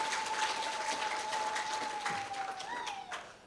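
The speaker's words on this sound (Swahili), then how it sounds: "Jipigieni makofi kwa kazi nzuri mnaoifanya." A crowd at a Chama cha Mapinduzi party gathering claps steadily, a dense, even patter heard from a distance with a faint thin tone running underneath.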